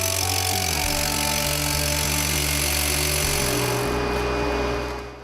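Power drill boring 25 mm injection holes into a chalet, a loud steady grinding drone with shifting pitch that runs continuously before easing off at the end.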